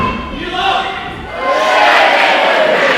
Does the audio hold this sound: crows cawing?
no